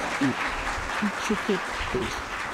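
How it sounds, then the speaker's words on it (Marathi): Audience applause rises at a poetry collection book launch, a moderate wash of clapping with a voice speaking over it in short bursts. "त्याच्यासाठी अजून एकदा जोरदार टाळ्या वाजवा."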